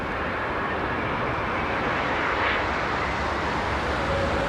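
British Airways Boeing 787 Dreamliner landing at London Heathrow on runway 27R with idle reverse thrust, a steady broad engine rush that swells slightly midway, distant and continuous, with no talk.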